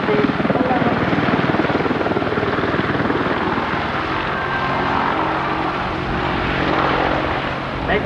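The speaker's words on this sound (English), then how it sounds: "Make note of the high angle of attack as he flies rearward with the aircraft." Helicopter flying rearward at a nose-high angle during the 1992 Westover Airshow, its steady loud rotor chop and engine roar filling the air continuously from start to finish.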